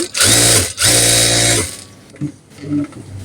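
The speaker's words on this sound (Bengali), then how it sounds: "এই তো আমি মেশিনে বিসমিল্লা করে সেলাই শুরু করতেছি" Sewing machine stitching a test piece of fabric after being fixed, loud and close in two strong runs of rapid, even stitching separated by a short pause, then quieter handling clatter.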